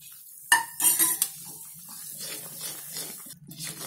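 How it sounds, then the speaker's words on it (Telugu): Spoon scraping and stirring a thick mysore pak mixture with ghee in a pan on low heat, with a loud clatter at the start followed by a few more knocks and then softer continuous stirring. "చెంచా సిమ్ లో పెట్టి మంచి కలుపుతూ ఉండాలి అడగంటకుండా చూసుకోవాలి"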